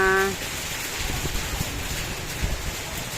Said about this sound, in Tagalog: ang lakas ng ulan. May kasama pang hangin.